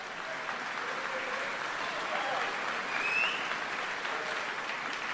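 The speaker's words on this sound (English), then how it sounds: "let's give him a round of applause" An audience at a military change of command ceremony gives sustained, even applause that swells slightly near the end, with faint voices underneath.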